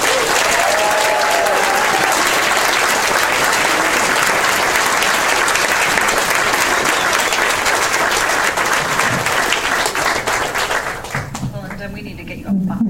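Sustained audience applause greets a judge as she steps up to the mic, a steady wash of many clapping hands at full volume for about eleven seconds before tapering off, with a voice beginning to speak at the very end.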